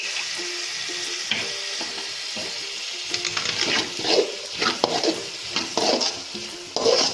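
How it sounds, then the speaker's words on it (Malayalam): Vegetables and coconut milk are stirred in a pan for a noolappam vegetable fry, with a steady soft sizzle and repeated scraping strokes of the spoon, close up with no talking. "എല്ലാം നല്ലോണം ഒന്ന് ഇളക്കി കൊടുക്കുക."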